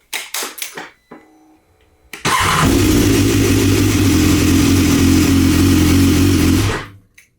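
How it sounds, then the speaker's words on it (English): BMW S1000R motorcycle engine starting up during an oil change with Motul 7100 10W40: a few faint clicks, then the engine fires and settles into a loud, steady, close idle for several seconds before cutting off. "I'm gonna start the bike just a bit for the oil to go in the oil filter."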